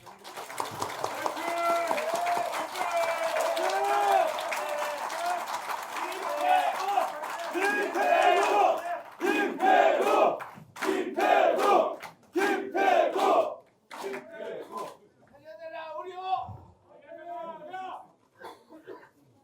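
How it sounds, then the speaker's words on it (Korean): A crowd of Korean doctors and medical representatives at a street rally in front of the presidential office in Yongsan roars and cheers in a dense, sustained wash, then breaks into scattered shouts with a voice on the loudspeaker cutting in. "큰 박수 부탁드립니다"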